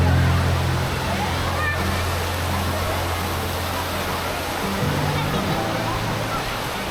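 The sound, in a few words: lazy river current at Lalandia Aquadome water park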